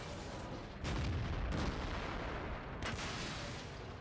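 Heavy guns boom in a World of Tanks battle, three deep blasts with rumbling tails over a constant engine-like roar, moderately loud and without talk.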